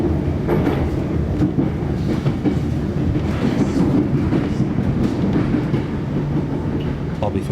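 An HCMT metro train pulls into Southern Cross station on the City Loop, a steady loud rumble with clicking wheels on rails and a faint chime near the end.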